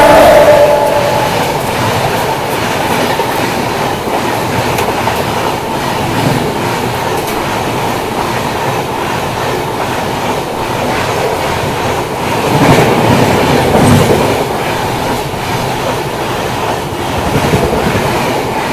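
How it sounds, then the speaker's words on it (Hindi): A UP Sampark Kranti express train passes close by on the crossing line at a railway station, a loud sustained rumble with steady wheel clatter and swelling bursts over nearly twenty seconds. "फाइनली जाके अब आई है यूपी संपर्क क्रांति।"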